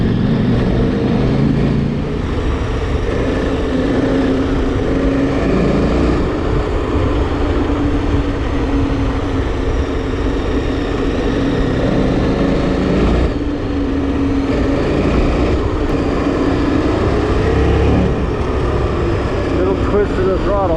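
A KTM 1290 Super Adventure R motorcycle is ridden at speed, its engine droning continuously under heavy wind rush with slight swells in pitch as the throttle changes.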